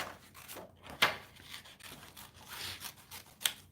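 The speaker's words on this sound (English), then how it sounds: "So we're going to go ahead and just use regular scissors here." Regular scissors cutting out a paper flower, giving a few close, soft snips and rustling paper scrapes, with two sharper snips standing out over a quiet room.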